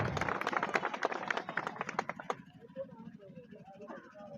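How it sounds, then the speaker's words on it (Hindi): A crowd at a Hasdev Bachao Andolan rally bursts into dense, loud applause to welcome a guest, the clapping thinning out after about two seconds into a low murmur of voices. "जोरदार तालियों से माननीय दीपक बैद जी का स्वागत किया जाए"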